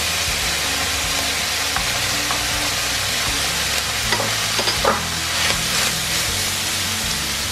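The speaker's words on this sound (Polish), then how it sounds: "Czyli temperatura patelni musi być dosyć wysoka. Teraz dodaję jedną białą cebulę." A white onion frying in a very hot pan for spicy Korean stir-fried pork gives a steady, dense sizzle. Faint stirring clicks and scrapes sit on top of it, and no one speaks.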